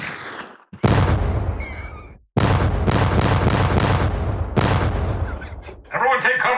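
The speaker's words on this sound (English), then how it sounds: "More bombs, fireworks, please." Bombs and fireworks burst in rapid succession in a comedic scene, a series of loud, close booms and crackling blasts separated by short gaps, with a voice briefly at the end.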